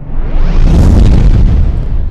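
A loud, close explosion sound effect erupts as one heavy boom that rumbles and crackles, then decays over about two seconds.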